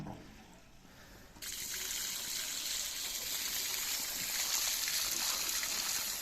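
Water for farm cattle suddenly starts running and keeps flowing steadily, a close, moderately quiet gush from a tap or hose.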